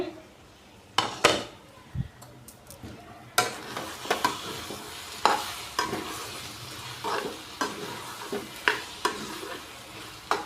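Brinjal curry being stirred in a pan on low heat, repeated spoon scrapes and clinks against the metal over a soft simmering sizzle, close and fairly loud, with no speech.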